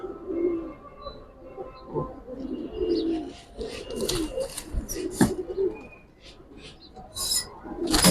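Giribaz pigeons coo in repeated low, throaty bursts close by, mixed with scattered chirps, scratchy rasps and faint background noise.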